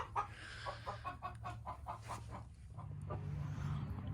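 Chickens in a backyard coop cluck in a quick series of short calls, moderately close, followed by a softer rising cackle over a faint steady background hum.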